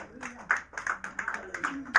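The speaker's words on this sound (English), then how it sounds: "Give Jesus a clap offering." A church congregation gives a short burst of clapping, with uneven, fairly quick claps from a smallish group heard at moderate distance, some rhythmic and some scattered, and a voice faintly talking underneath.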